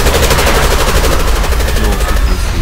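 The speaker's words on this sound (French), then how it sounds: "Ce qui manque, c'est une grosse explosion." A loud, sustained burst of explosive blasts fills the whole stretch, a dense, rumbling barrage of booms and crackles at close range with no pause, used as a big explosion sound effect in an improvised theatre piece.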